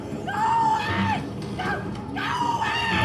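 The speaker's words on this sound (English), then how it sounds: "Quit screaming, quit screaming" A character in The Walking Dead video game screams loudly in long, strained wails, two main bursts separated by a short gap.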